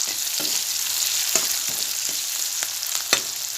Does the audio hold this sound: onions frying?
yes